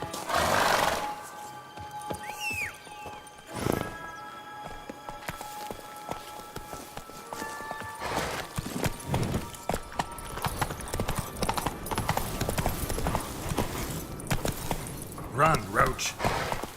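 Hooves of Roach, a horse in The Witcher 3 video game, clip-clop in a quick gallop, with a whinny and a short burst of game dialogue, against a busy, layered soundscape.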